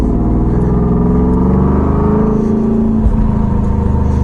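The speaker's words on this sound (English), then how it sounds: "let's give it a nice little clutch kick here." Loud, steady engine of an LS3 416 cubic inch WS6 Trans Am drift car droning close up, with a slight throttle blip near the three-second mark as the clutch is kicked.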